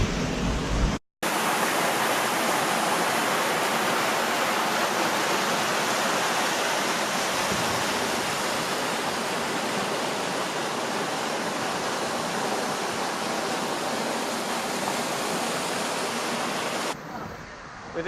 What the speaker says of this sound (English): It was just to the side of a quarry with a little fast flowing stream.